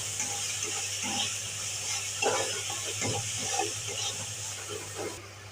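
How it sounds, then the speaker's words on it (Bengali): Spices being stirred in a hot pan for a dal tadka, cumin, turmeric and salt sizzling steadily as the spoon scrapes through, a continuous frying hiss with soft irregular scrapes, close and alone. "এবার আমি নেড়ে নিচ্ছি, সব মশলা দেওয়া গেছে"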